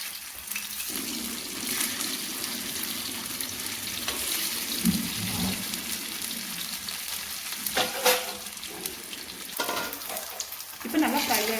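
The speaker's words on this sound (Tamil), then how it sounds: "இப்போ ஒவ்வொரு மீனா ஆட் பண்ணி ஃப்ரை பண்ணி எடுத்துக்கலாம்" Fish frying in hot oil for a Tamil meen varuval, a steady close crackling sizzle running throughout with brief clinks and stirring scrapes, no voices.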